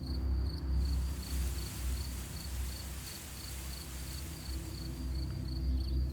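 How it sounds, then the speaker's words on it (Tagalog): Steady, rhythmic cricket chirping in a quiet night setting, with a soft continuous background hiss; no clear rustling stands out. "Ang tanging maririnig mo ay huni ng kuliglig at kaluskos ng mga dahon."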